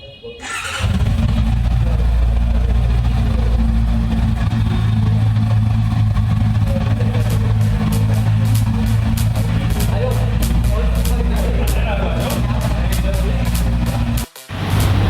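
A new 2024 Honda CBR650R motorcycle engine runs loud and steady close by for most of the stretch, a continuous rumble with a brief dip near the end as it pulls away.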